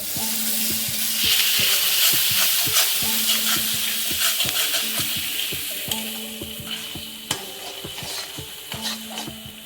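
Spice masala for Bengali-style chicken kasha sizzles and fries in a pan with a little water, a steady close hiss under rhythmic scraping strokes of a stirring spoon throughout.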